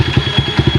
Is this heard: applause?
no